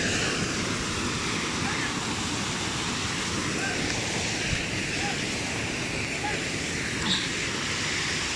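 Steady rushing roar of water pouring down Braemar Hill waterfall in Hong Kong after heavy rain, a continuous broadband wash close to the microphone with no break.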